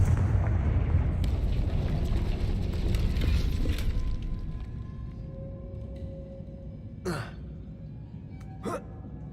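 A Confringo blasting spell explodes in Hogwarts Legacy, a loud rumbling blast that fades into a long low roar, followed by a pair of brief whooshing effects.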